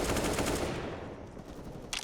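Rifle gunfire in a Counter-Strike match on the Ancient map, a loud rapid burst of automatic shots that tails off into scattered echoes, with no voices over it.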